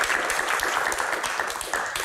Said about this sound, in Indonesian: Dan tepuk tangan yang paling meriah untuk rekan-rekan mahasiswa di studio.